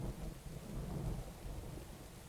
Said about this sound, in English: And the lightning just struck the lighthouse.